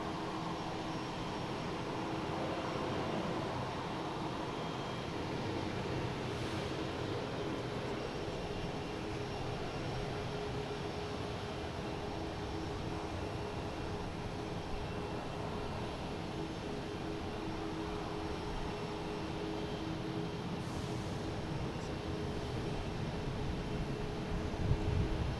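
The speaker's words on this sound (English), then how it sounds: "We have Delta taking off on 9. Heading to Detroit, A321." A Delta Airbus A321 takes off from runway 9 at Boston Logan, a sustained jet roar with a low engine hum and thin tonal whines, steady at moderate distance throughout.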